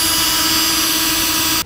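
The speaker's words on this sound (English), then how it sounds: "we'll go ahead and drill out our other pilot holes for the front and the rear rails" A power drill runs steadily, boring pilot holes in a vehicle's exterior side wall to mount front and rear ladder rack rails, a loud, close, continuous whine that cuts off abruptly at the end.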